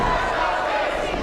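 A dense wrestling arena crowd roars and yells in support of Casey, a loud continuous mass of cheering voices in a brief burst.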